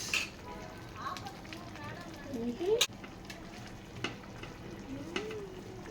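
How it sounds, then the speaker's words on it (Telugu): A spicy fish curry cooks in a pan, giving a soft continuous simmer and sizzle with a few brief clinks and stirring noises, and a voice briefly talks over it. "ఫిష్ కర్రీ ఎలా కుక్ అవుతుందో చూడండి"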